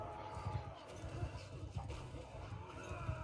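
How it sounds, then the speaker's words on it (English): A horse in the Mount & Blade video game whinnies and snorts amid a dull battle backdrop, the call faint and partly under a speaking voice. "Where did my horse go? That's not my horse. Well, it's a horse."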